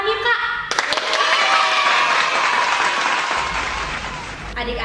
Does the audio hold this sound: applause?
yes